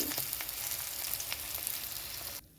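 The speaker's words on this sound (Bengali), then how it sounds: "তো মাছটা ভেজে নামিয়ে নিয়েছি" Katla fish fries in hot oil with a steady, close sizzle and scattered pops, and the sound cuts off abruptly near the end.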